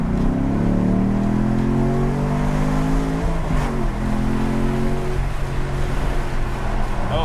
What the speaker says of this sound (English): Put the windows down so you can hear the exhaust.